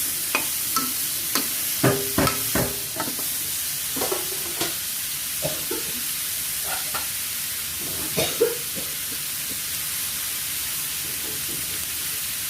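Chicken and young pumpkin stir-fry in a pan, a steady sizzle beneath repeated clatter and scraping from a stirring utensil, the knocks bunched early and then spaced out.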